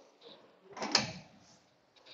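Teak crockery cabinet door swinging open or shut, a single soft wooden knock and brief rustle, close and fairly quiet in a still room.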